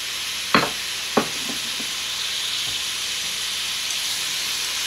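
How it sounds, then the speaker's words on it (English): Onion and a spoonful of salt stirred in a frying pan over high heat, a steady bright sizzle throughout with two sharp scraping strokes near the start and softer scrapes after. "Stir it."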